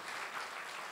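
A church congregation at a healing service gives a brief, even burst of applause, moderately faint and continuous for about a second.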